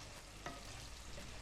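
Mushrooms fry in extra virgin olive oil, giving a soft, steady sizzle that stays faint and even throughout, with one brief stirring scrape near the start.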